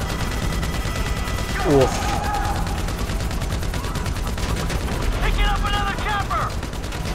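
Gunfire from Grand Theft Auto V plays as rapid bursts and fusillades of shots at close range, with a brief mechanical clatter in between and someone talking over the action.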